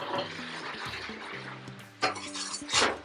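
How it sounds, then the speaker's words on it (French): White sugar poured into a metal saucepan for caramelising coconut, a granular hiss with light clinks of utensils over soft music. "je verse le sucre blanc dans la casserole"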